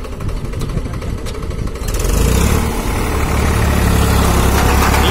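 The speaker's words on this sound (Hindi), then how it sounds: "आप आवाज सुनिए, क्या शानदार आवाज है ट्रैक्टर की।" A Powertrac 439 tractor engine idles with a rough, chugging rumble, then revs up louder and holds a steady, heavy drone, close by.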